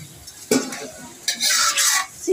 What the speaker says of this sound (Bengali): আমাদের বড় কড়াই ছিল না বলে হাঁড়িতেই চিকেনটা কষিয়ে নিচ্ছি।